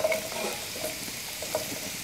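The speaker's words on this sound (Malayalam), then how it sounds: "ഈ ചൂടായ എണ്ണയിലേക്ക് നമ്മൾ 1 സബോള ഇടാൻ പോവാണ് അരിഞ്ഞു വെച്ചത്." Sliced onion drops into hot oil and fries with a steady, close hiss and faint crackle, alone with no talk.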